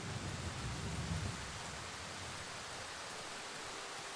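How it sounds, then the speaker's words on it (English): Steady rain in the video game Darkwood: a dense, even hiss of rainfall with a slightly heavier low rumble in the first second, continuing unbroken with no voices. "you're not going to be able to hear much sound anyway, because of the rain"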